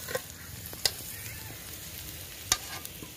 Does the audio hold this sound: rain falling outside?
no